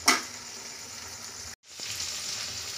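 Mutton chosta, a spiced mutton dish, sizzles loudly in a pan while being stirred; a steady close frying hiss opens with a brief scrape, drops out for a moment, then resumes evenly.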